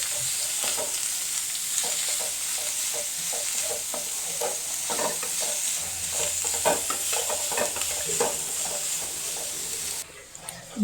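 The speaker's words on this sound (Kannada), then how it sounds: "ಇದು ಸ್ವಲ್ಪ ಕಲರ್ ಚೇಂಜ್ ಆಗೋವರೆಗೆ ಫ್ರೈ ಮಾಡ್ಕೊಳ್ಬೇಕು" Onions and garlic frying in a pan, a steady low sizzle broken by repeated scraping and stirring strokes, close and fairly quiet, with no talking.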